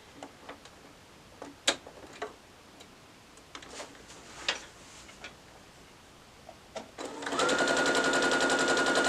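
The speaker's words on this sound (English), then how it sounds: "We are just stitching one color and one background together." A sewing machine stitches quilt fabric strips, one colour to a background, for a nine patch block with a quarter-inch foot. A few light clicks and taps come first, then the motor starts and runs in a loud, steady whir.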